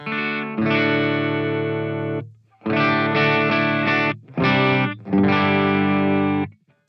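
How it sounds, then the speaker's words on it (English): A distorted electric guitar rings out through a Donner Arena 2000's Fender Deluxe amp model in four sustained chords separated by short gaps, loud and close, with no one speaking. "It's a Fender Deluxe sound, I believe."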